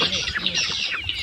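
Several free-range Indonesian chickens cluck and murmur close by in a short, busy burst of overlapping calls.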